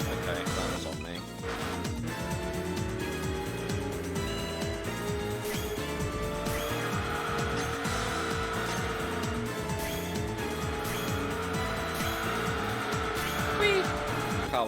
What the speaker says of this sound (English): Car went skiddy.